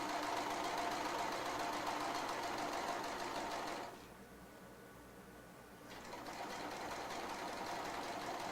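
A sewing machine stitches heavy canvas edged with tape on a Colorado ranch, a faint steady mechanical whir that pauses briefly midway and then resumes, with no talking.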